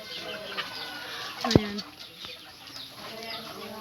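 Farm poultry, turkeys and ducks, being fed in a rural province yard; scattered clucks and gobbling calls, one sharp loud squawk in the middle, with a voice talking over the flock.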